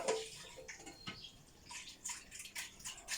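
Water splashes and trickles while oatmeal is washed in preparation for homemade oat milk, with soft, irregular sloshing bursts close by and no talking.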